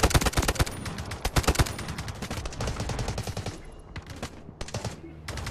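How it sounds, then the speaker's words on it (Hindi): Dense gunfire in the Delta Force video game, with rapid bursts of shots stacking into a steady barrage across the clip, loud and close, thinning briefly near the end. "अब यहाँ से भाई कहाँ से गोलियाँ चला रहे हैं।"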